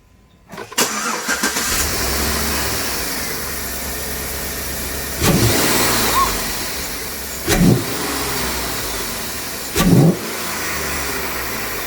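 Chevrolet Suburban LTZ with a new cold air intake, starting up and settling into a steady idle, then three sharp revs spaced a few seconds apart, close and loud.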